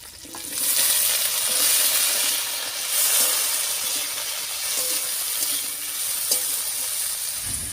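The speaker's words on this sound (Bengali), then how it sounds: "এবার দিয়ে দিচ্ছি কেটে রাখা আলু।" Cut potatoes hit a pan of hot oil where garlic and slit green chillies are already frying, and a loud, steady sizzle and hiss carries on without pause and with no talking.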